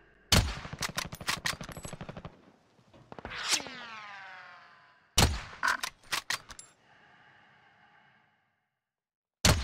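Rapid bursts of automatic gunfire and single shots ring out in Call of Duty: Warzone, loud and close, in several clusters separated by short pauses, with one shot trailing into a long ringing echo.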